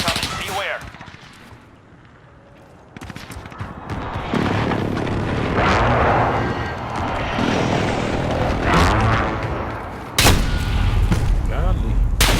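Heavy in-game explosions and gunfire from an allied precision airstrike in a first-person shooter, booming bursts that swell and then hit hard again near the end, with players talking over the chaos.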